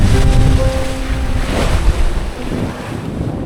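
Loud rushing water and wind roar around a sailboat lurching through waves at sea, with heavy buffeting on the microphone and a surge of spray near the middle before it eases slightly.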